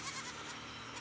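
A village goat bleats once, a short, coarse, close cry over a faint rough background with no speech.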